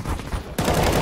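Gunfire in the shooter game CS:GO: ambient game noise, then a sudden loud, dense burst of shots in the second half that sustains to the end.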